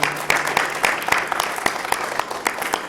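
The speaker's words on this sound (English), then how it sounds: "So give them a round of applause" A school audience at a junior high spelling bee claps for the teachers and administrators, a moderate round of applause with distinct individual claps, close and steady throughout.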